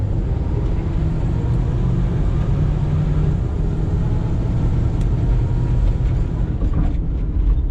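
A black 1970s GMC Vandura van with a TH350 three-speed automatic transmission roars steadily and loudly as it accelerates. The engine and road rumble stay dense and continuous throughout, with no voices.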